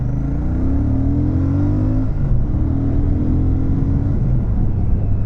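A Royal Enfield Shotgun 650 motorcycle on a test ride, its engine rumbling close and loud as revs climb, dip briefly midway, then rise again, with no talking.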